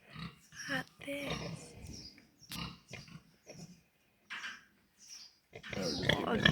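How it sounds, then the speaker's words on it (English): A happy sow grunts repeatedly on a farm, short throaty bursts in an uneven rhythm, close by, with people talking over and between the grunts. "She's a grunty pig."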